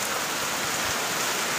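Heavy rain pours down in a dense, steady hiss, loud and close, with no voices and no break in the downpour.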